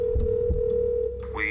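A telephone call sound effect: a steady tone holds, then breaks off and a rising electronic chirp follows, close and fairly loud, with no voices.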